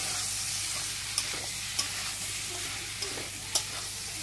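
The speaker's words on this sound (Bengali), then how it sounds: "দেখো দিয়ে দিলাম, এবার ভালো করে কষে নেবো" Goat mutton, already boiled, sizzles steadily as it is stir-fried in a pan, with a constant frying hiss broken by a few sharp clinks of the spatula against the metal at irregular intervals.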